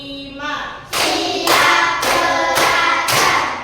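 Classroom clap game with a teacher's voice followed by a run of about five loud, evenly spaced bursts of hand clapping.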